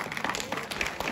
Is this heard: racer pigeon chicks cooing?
no